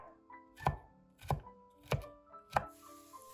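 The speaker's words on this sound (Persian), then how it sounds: "بعد 2 عدد شلغم متوسط داشتم که اول پوستشون رو گرفتم، بعد به صورت مکعبی ریز" Peeled turnips are chopped into small cubes on a board, with four crisp knife thunks at an even, unhurried pace, close and alone.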